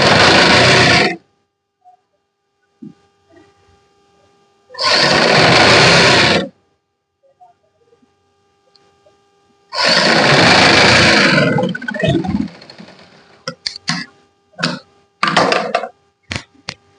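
Sewing machine running in short bursts while tacking loose basting stitches along a folded kurti collar, three loud runs of about a second or more each, separated by quiet handling and followed by light clicks and rustles.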